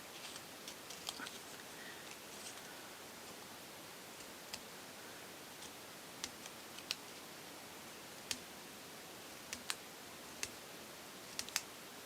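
Scissors snip out paper tabs for a miniature heart box, quiet intermittent clicks and cuts scattered irregularly over a faint hiss, close but soft.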